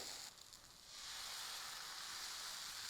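Uttapam batter poured onto a hot oiled griddle gives a soft sizzle that swells into a steady hiss after about a second and then holds quietly without any talk.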